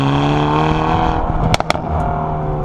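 Revs from the 2019 Hyundai i30N's 2-litre turbocharged four-cylinder hatchback engine fall away, then a couple of sharp exhaust pops crack out close by, followed by a fainter one.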